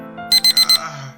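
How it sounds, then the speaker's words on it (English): Alarm clock ringing in the video game Doki Doki Club Meetings, four short, loud electronic beeps in a quick even burst, then a brief soft tail. "This is the alarm I set so I can sleep through it."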